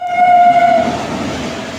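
At a railway station, a train sounds a loud, close horn that holds for under a second, then cuts off, leaving the rumble of rolling rail cars as it passes.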